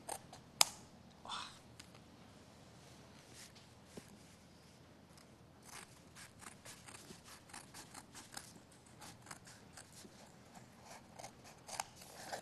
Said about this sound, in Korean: 완전 가위 자르는 소리